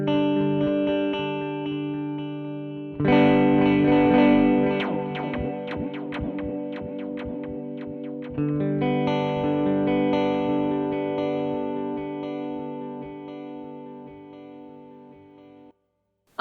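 An MXR Joshua Ambient Echo pedal set to a tapped tempo repeats electric guitar chords, each strum followed by rhythmic echoes and shimmering ambient wash that sustains and slowly fades, loud and close with no talking.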